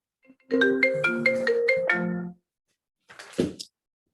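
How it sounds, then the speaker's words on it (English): A mobile phone ringtone goes off during an international student award ceremony, a melodic run of tonal notes for about two seconds, then stopping, followed by a short muffled knock or handling noise. "My phone keeps going off, so I apologize."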